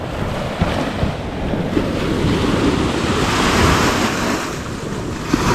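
Surf washes steadily onto a seashore while strong wind buffets the microphone, close and continuous, with no speech.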